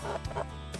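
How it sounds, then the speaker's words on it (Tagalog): A few short, soft clucks from roosters, close by and quiet, spaced irregularly over a brief moment. "Okay, ito yung aking 4 na tandang"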